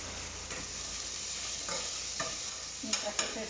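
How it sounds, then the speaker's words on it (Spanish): Onion, garlic and chile frying in a pan give a quiet, steady sizzle, broken by a few soft scraping stirs that grow more distinct toward the end, with no talking. "Mientras que se fríe la cebolla, el ajo y el chile"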